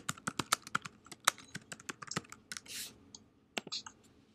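Close computer keyboard typing with irregular key taps and mouse clicks, plus a short soft rustle partway through, quiet and without speech.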